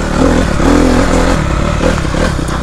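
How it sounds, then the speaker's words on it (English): A dirt bike engine chugging in first or second gear at low speed, loud and close, with a steady rough putter, slight throttle swells and some rattling clatter from the ride. "So you can hear the engine from the dirt bike there"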